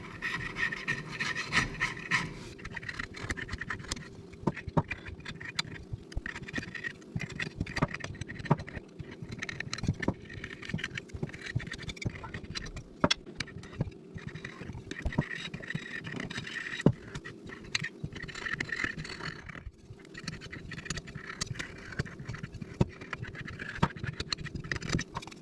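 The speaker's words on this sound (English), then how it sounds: "I'll scrape this excess gasket material off of it." Steady rasping scrape of a tool across a riding mower engine's valve cover, clearing off old gasket material; repeated close strokes run continuously for the whole stretch, with no talk.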